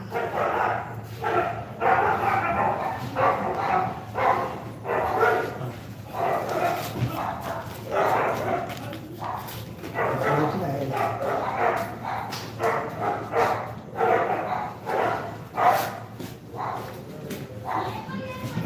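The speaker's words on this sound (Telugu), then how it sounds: "ఐదారు కుక్కలు వచ్చింది" Several dogs bark repeatedly in short bursts, fairly close, over a busy background with voices and children nearby.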